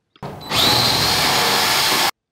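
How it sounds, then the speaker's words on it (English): A power drill spins up and bites into the steel of a sailboat, starting with a short burst and then running as one loud, steady whine for about one and a half seconds before stopping abruptly. "In this week's episode, I drill something."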